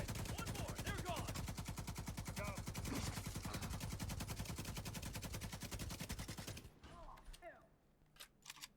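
The Pakhan exotic light machine gun fires in the video game The Division 2, a long unbroken stream of rapid, evenly spaced shots that stops abruptly, followed by a few scattered sharp reports, with voice chatter mixed in under the gunfire.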